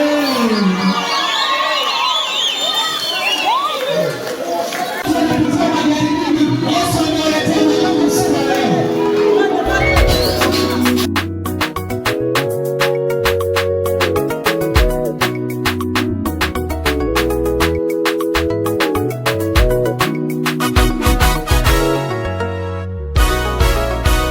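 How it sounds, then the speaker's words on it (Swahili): Loud crowd cheering and shrill ululation at a lively church gathering in Bukombe, rising over energetic worship music with drums and singing that carries through the whole stretch. "Ongeza vigelegele."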